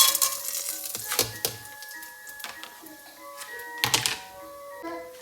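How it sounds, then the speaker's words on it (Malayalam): Spices crackle and sizzle in hot ghee in a pan while cooking vegetable rice, with sharp bursts of spitting near 1 and 4 seconds over steady tonal background music. "കുറച്ച് നെയ്യ് ഗീ ഒഴിച്ചതിന് ശേഷം ബാക്കിയുള്ള സ്പൈസസ് എല്ലാം ആഡ് ചെയ്യാം"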